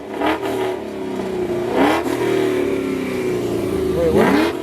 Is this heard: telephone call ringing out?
no